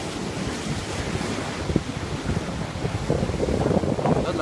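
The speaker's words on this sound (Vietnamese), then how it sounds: "đứng cách bờ biển tận 4 mét mà sóng vẫn đánh bắn cả vào mặt" Rough sea surf pounds the shore at Quất Lâm, a continuous loud wash of breaking waves with strong wind buffeting the microphone throughout.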